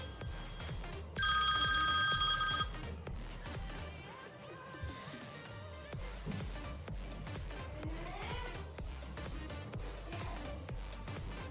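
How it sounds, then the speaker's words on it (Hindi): Old-style telephone bell ringtone played from a ringtone app on a phone, a bright electronic ring lasting about a second and a half amid background noise and faint distant sounds. "जो ओल्ड फ़ोन की भी सिलेक्ट की है, ये आपके सामने ओल्ड फ़ोन की भी आ गई है।"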